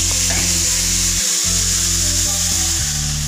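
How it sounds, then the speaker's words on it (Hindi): Mixed vegetables frying in oil with turmeric and salt, a steady loud sizzle that carries through the whole stretch, dipping briefly to near-silence about a third of the way in before resuming as the pan is stirred. "मिक्स करने के बाद इसे हम 3 से 4 मिनट तक हल्दी, नमक और इस तेल के अंदर इसे हम अच्छे से फ्राई कर लेंगे"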